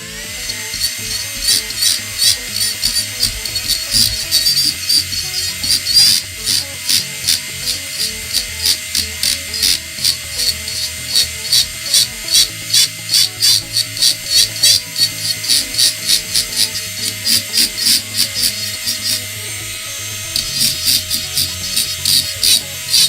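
High-pitched dental-drill-like rotary tool carving wood for a feral gibberer figure, a steady whine with rapid rhythmic grinding pulses throughout, close and continuous.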